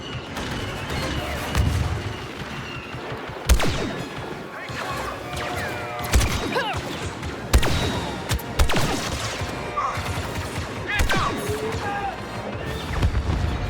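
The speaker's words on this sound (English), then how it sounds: "Enemy rockets ahead." Rockets and explosions in the Star Wars Battlefront 2 campaign: repeated loud blasts and booms at irregular intervals over constant battle noise, with game voice lines in between.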